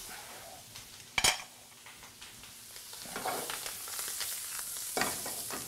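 Mushrooms and chili fry in a pan with a soft, continuous sizzle. A sharp clink of a utensil against the pan comes near the start, and scraping stirring noises follow.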